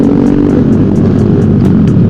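Automatic scooters and motorcycles on a night group ride, a dense, loud, continuous engine drone with rumble and passing whines from many bikes close by, no voices.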